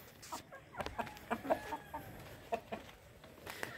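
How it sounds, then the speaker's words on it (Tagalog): A yard flock of chickens being fed by a mother, several soft clucks and short calls at close to moderate distance over quiet background rustling. "Yan pa ni mama yung mga manok."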